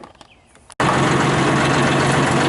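John Deere 5075E tractor engine idling with the PTO engaged in economy 540 mode, a loud steady close-up drone that starts abruptly after a short quieter stretch.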